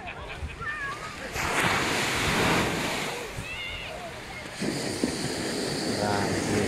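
Surf washes onto a beach in Phuket, a steady rolling roar that swells and eases over several seconds, with faint whistling and voices in the background.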